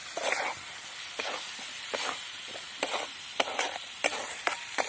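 A dry cowpea stir-fry with a ground peanut, green chili and spice mix being stirred in a pan over a steady sizzling hiss, with soft periodic scraping strokes, close up and without speech.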